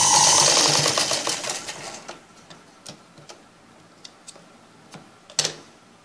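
Sewing machine stitching a blouse front piece, a loud rapid mechanical clatter at the start that slows and fades into scattered ticking clicks and a final sharper tap.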